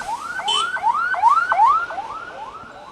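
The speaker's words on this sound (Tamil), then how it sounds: "ஆம்புலன்ஸ் வழி விடுங்க, ஆம்புலன்ஸ் வழி விடுங்க" An ambulance siren wails in a rapid, repeating rising sweep, loud and near, cycling about seven times with no one talking over it.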